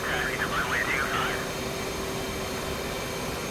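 An F-18 jet engine drones as a steady broadband roar in the DCS flight simulator, even and sustained, with a brief electronic tone near the start.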